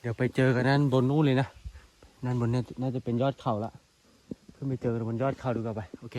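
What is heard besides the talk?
None of the usual background noises is heard.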